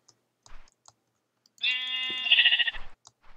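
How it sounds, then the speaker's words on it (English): Sheep bleating in a survival video game: a single sustained, wavering bleat rising in intensity near its end, loud and close, with faint clicking sounds scattered before and after. "Oh, there's more sheep."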